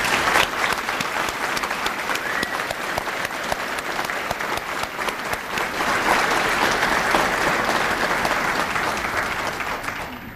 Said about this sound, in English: please join me in giving Class 66 a thunderous round of applause